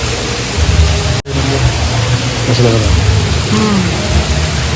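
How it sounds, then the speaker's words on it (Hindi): Steady, dense heavy rain noise in Goa fills the clip, with a brief dropout near the start and a voice speaking over it. "बहुत तेज फिर से बारिश स्टार्ट हो गया"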